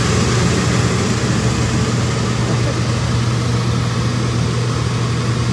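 A Dometic RV rooftop air conditioner running, a loud steady hum and whooshing blower noise that stays constant and close throughout.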